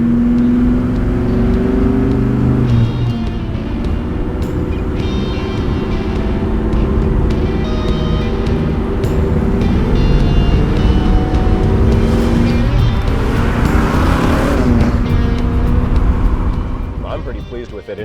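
A Chevelle with a 430-horsepower engine and a new exhaust rumbles and revs loudly, heard close by outside the car as a deep, continuous growl that swells and settles over about eighteen seconds.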